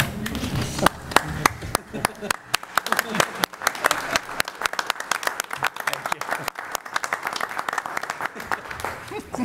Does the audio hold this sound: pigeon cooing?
no